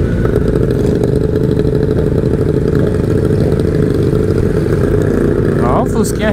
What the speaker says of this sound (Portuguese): Barulho diferente essa moto aqui.